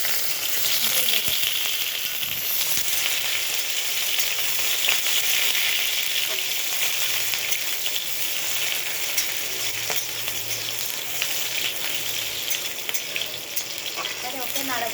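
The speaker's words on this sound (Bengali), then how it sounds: "এবারে ওকে নাড়াচাড়া করতে থাকবো যতক্ষণ না পর্যন্ত পেঁয়াজটা লাল হচ্ছে।" Chopped onion and green chili fry in hot oil, a loud, continuous sizzle that holds for the whole stretch, with faint stirring scrapes and knocks underneath.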